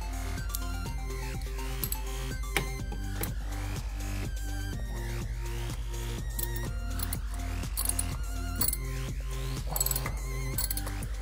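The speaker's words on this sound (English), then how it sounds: "Take your wrench." Ratchet wrench tightening the oil drain plug on a Buick Encore, Chevy Trax or Cruze during an oil change, with a steady run of quick, close, metallic clicks in an even rhythm.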